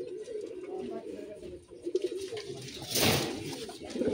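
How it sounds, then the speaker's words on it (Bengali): Surmai khaki pigeons, a pair of fancy domestic birds, coo in soft, repeated rolling calls, close and fairly quiet, with a low murmuring background. "সুরমাই খাকি কবুতর"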